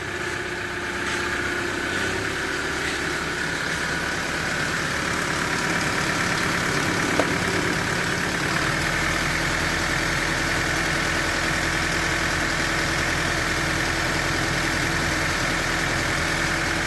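A Toyota Hilux engine idles steadily after its starter has been repaired, a constant close, even rumble with a faint mechanical tick that runs unchanged for the whole stretch.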